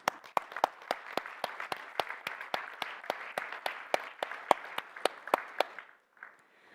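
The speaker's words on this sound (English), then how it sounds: "all of you really deserve a big round of applause" A single person claps about twenty crisp, evenly spaced times over a faint roomy background at an education debate, then stops and a brief murmur follows.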